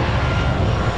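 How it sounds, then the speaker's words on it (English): An American Airlines Boeing 737 jet flies in on approach at Montego Bay, Jamaica, a steady loud engine roar filling the scene with no pauses. "So guys, look at the American airline coming in."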